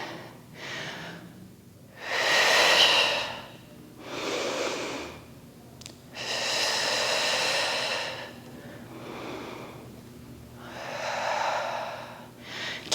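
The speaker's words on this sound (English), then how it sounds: "We're gonna do a couple more of those deep belly breathing." Deep belly breathing during an exercise session: slow, loud breaths come close up in a regular rhythm, each long inhale or exhale a breathy rush separated by short pauses, about six breaths in all.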